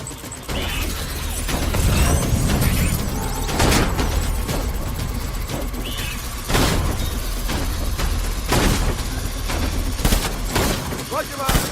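Gunfire from the video game Death Stranding: repeated loud bursts and volleys of shots with sharp cracks and booms, spread across the clip, under continuous game sound and intermittent speech.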